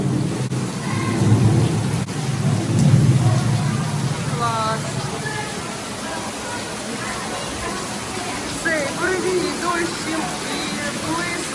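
Heavy rain pours steadily while low thunder rumbles; birds chirp faintly and a voice speaks briefly over the downpour.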